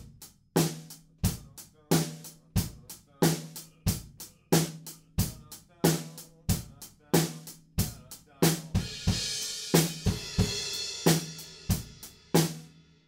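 A full drum kit plays the four-bar groove of a song, with steady kick and snare hits on a regular beat and bright crash cymbals washing over the later bars, loud and close with no talking.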